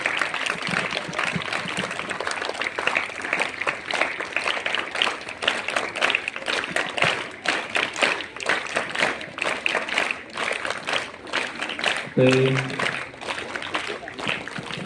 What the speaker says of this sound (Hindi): तो उन सभी स्टाफ के लिए भी एक बार जोरदार ताली हो जाए